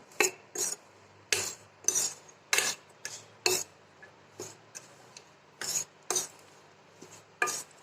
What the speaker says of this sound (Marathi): आता हे काही मिक्स करून घ्यायचं चांगलं